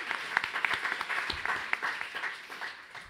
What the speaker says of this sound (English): Yes, let's clap.